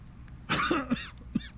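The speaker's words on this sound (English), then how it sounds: "And then he coughs." A weak old father character in Octopath Traveler gives a short raspy cough, two harsh bursts followed by a small third one, close and clear with no talking.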